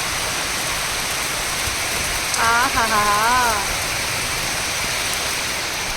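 Heavy night rain pours down outside in a dense, even roar, with a voice speaking briefly over it partway through.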